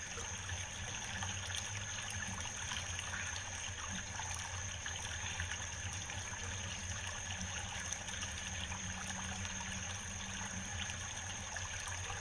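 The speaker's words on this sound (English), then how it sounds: "There's a waterfall that could turn a wheel." Creek water and a small waterfall flow in a steady, even wash of trickling and rushing water, moderately close and continuous, with no talking over it.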